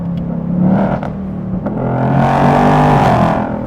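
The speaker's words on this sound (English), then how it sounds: "Right now we're in that race mode exhaust." A loud 2024 Ford Mustang GT engine revving hard in race-mode exhaust, the note rising and roaring with a few sharp pops, close by with no talking.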